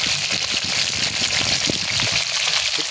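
Mustard oil heating in a wok gives a steady hissing sizzle, a dense crackling wash that continues without pause throughout.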